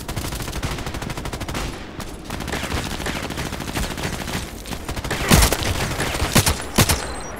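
Rapid bursts of KelTec RFB Carbine gunfire in the shooter game Contract Wars, a dense run of close, loud shots through the first half, then several sharper, heavier blasts near the end.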